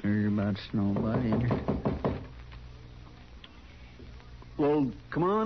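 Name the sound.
knocking on a door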